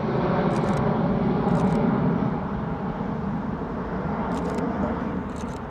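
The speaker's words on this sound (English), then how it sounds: "next we've got a British Airways going to Rome. I'm going to wait for that to go over" British Airways airliner passing overhead at Heathrow Airport, a broad loud engine roar that holds steady and slowly eases as the plane moves away, with faint clicks on top.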